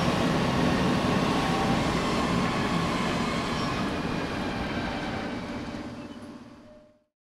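Train rolling steadily along the line in the Transport Fever 2 cab ride, a broad continuous rumble with faint squealing tones, loud and close throughout before cutting off abruptly near the end.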